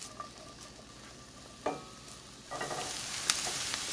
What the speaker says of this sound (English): I added a little bit of oil and we're gonna go ahead and begin cooking our onions.